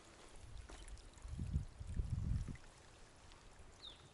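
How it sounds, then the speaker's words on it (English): A small spring at mile 544 of the Pacific Crest Trail trickles and gurgles quietly near a campsite, a faint outdoor flow with a few low, muffled rumbles swelling in the middle. "This is the spring at mile 544. Looks like it's flowing pretty well."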